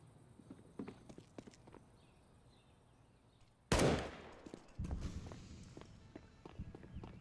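A single sharp gunshot cracks out at mid-distance in a professional CS:GO match, loud and abrupt, followed by a second rumbling burst and scattered footstep-like clicks, with no one talking.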